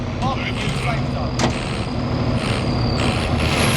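A military truck's engine in the video game Warzone drones steadily and close, a dense low rumble running the whole time, with brief clunks and other game effects over it and a voice talking in places.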